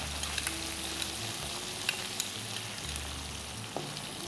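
Fish and chopped onions fry together in a pan with whole garam masala, giving a steady close sizzle broken by soft stirring scrapes throughout.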